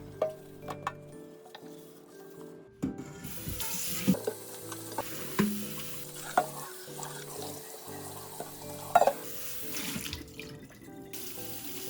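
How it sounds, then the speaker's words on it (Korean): Dishes being washed by hand under a running kitchen tap: steady water flow with scattered clinks and knocks of plates and utensils, close up and with no talking. "식세기가 있어도 손설거지를 안 할 수는 없습니다."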